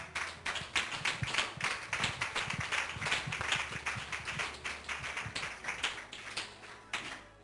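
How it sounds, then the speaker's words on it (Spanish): A church congregation claps steadily to welcome their pastor, a dense run of hand claps sustained for the whole stretch at moderate level, with a low hum underneath and no clear talk. "vamos a recibir a nuestro pastor con un fuerte aplauso"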